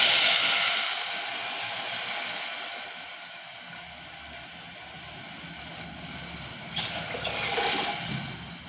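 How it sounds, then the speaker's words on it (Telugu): Water is poured into a pressure cooker pot of fried ingredients, a fairly faint hissing splash that tapers off, then swells again with a trickling rush near the end. "గ్లాస్కి 2 గ్లాసులు చొప్పున వాటర్ వేసుకోవాలి"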